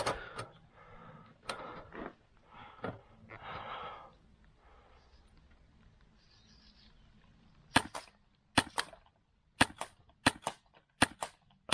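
Airsoft gun firing BBs at a target about 15 metres away, a series of sharp, close snapping shots spaced irregularly, preceded by quieter shuffling and handling sounds.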